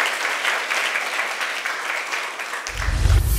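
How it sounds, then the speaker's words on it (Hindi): Loud applause from an audience at a community quiz event in a Buddhist vihara, a dense steady clapping wash lasting a few seconds, swelling slightly at the end. "जोरदार ताली"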